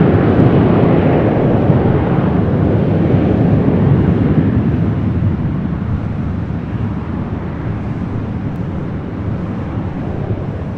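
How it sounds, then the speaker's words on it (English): A Hawaiian Airlines A330 airliner arriving at LAX gives a loud, continuous broadband jet roar that slowly fades as it passes, with some wind buffeting on the microphone and no voices. "We've got that Hawaiian A330 up next for arrival."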